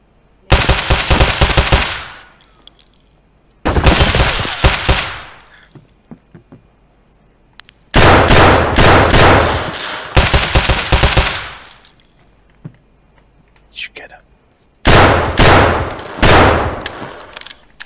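Video game gunfire rattles in loud, close automatic bursts, five long volleys separated by short pauses during a night-time shoreline match.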